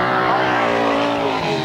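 Grasstrack sidecar outfits race past at a 1993 summer meeting, a loud, steady engine roar that fills the whole moment without a break.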